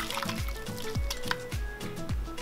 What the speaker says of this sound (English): So I'm just gonna go ahead and strain this